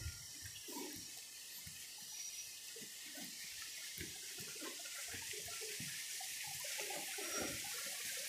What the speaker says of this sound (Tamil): இந்த இடத்துல ரோடில் தண்ணி போகுது.